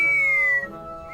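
A steam locomotive whistle gives a thin, wavering, mournful tone that slides slightly downward and fades after about half a second, leaving a low hiss of steam beneath.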